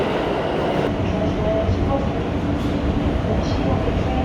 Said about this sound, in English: I'm on the subway